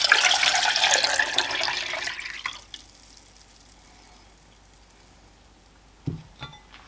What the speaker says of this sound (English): Watch what happens when I pour it in the GSI kettle.